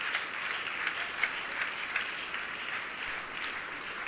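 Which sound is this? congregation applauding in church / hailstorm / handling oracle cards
congregation applauding in church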